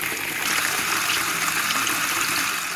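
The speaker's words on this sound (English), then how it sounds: "So this is the tap water that I'm going to put in there." Tap water pouring steadily into a water filter, a continuous, close, bright gushing stream that runs the whole time without pause, no speech.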